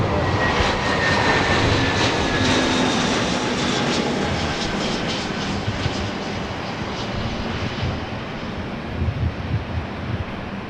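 An airliner's engines roar steadily near a runway at LAX, the loud, broad rumble slowly fading as the aircraft moves along.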